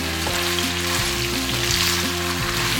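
Chicken with basil leaves sizzles steadily in a hot pan for three-cup chicken, a constant close frying hiss over a low hum, with no talking.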